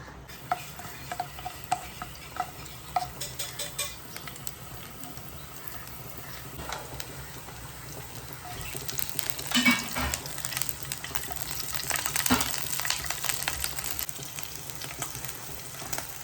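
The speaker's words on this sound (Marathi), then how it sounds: "त्यातच आपण लसूण परतून घ्यायचे." Garlic sautéing in hot ghee sizzles steadily close by, with stirring clinks and scrapes that build louder toward the end. No voices.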